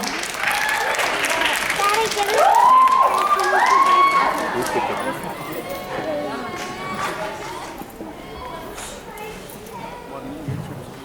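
An audience at a stage performance applauds steadily, welcoming a young singer onstage for a devotional song. The clapping swells and then slowly thins out over several seconds, with voices mixed in.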